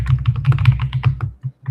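Rapid keyboard typing during a live trading session, a steady run of close, fairly loud keystroke clicks that slows into a few separate taps at the end, with no voices.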